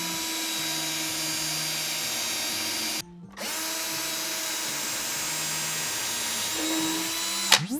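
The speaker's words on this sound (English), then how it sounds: "go to these side pegs where the screws are meant to mount to and drill them out for these big 1032s" Power drill boring out plastic mounting pegs on a HasLab Proton Pack with a number 21 bit, loud steady whine that stops briefly near the middle and then resumes.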